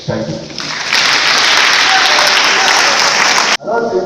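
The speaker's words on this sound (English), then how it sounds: "I like that round of applause" A loud burst of audience applause and cheering at a Tourism Day celebration in Akrofo Lewef, swelling quickly and holding steady for several seconds before cutting off sharply, with faint voices around it.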